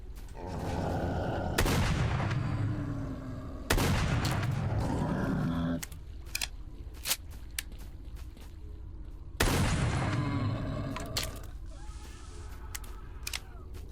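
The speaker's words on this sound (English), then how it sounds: "Now I have to use the shotgun." Shotgun blasts in the game S.T.A.L.K.E.R. Lost Alpha: three loud booming shots spaced a few seconds apart, each with a long rumbling tail, followed by quieter mechanical clicks and clatter between them.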